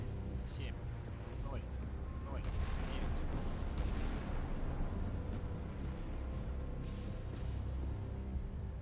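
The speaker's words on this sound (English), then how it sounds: "And this vessel doing a lot of launching of missiles too." A warship in a real-time strategy video game launches missiles, with repeated booming launches and rushing blasts over a continuous low rumble.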